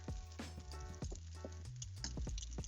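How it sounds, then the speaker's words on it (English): Hawaiian fried rice with Spam and pineapple being stirred in a hot pan: a soft sizzle with brief scraping and stirring strokes over a steady low tonal hum, short and close. "Make sure to keep stirring the rice."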